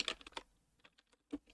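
A few quiet keystrokes on a computer keyboard as a command is typed, a quick cluster of taps followed by a pause and then a couple of isolated presses.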